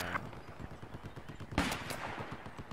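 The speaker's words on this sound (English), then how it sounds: "Why are you shooting me?" Rapid automatic gunfire rattles in a military shooter video game, a steady stream of shots with a louder burst just past the midpoint, moderately close with little talk.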